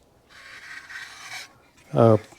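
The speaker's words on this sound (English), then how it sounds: "you keep that blade, that file flat on there, and never stay in the same spot" A hand file rasps across the gasket surface of a 1978 Suzuki RM250 cylinder in a couple of close, steady strokes, followed by a brief louder voiced sound.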